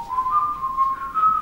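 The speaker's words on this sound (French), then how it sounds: "si on se met à siffloter" A person whistles a steady melodic tune alone, the pure tone gliding slightly upward with short phrase breaks, clear and close.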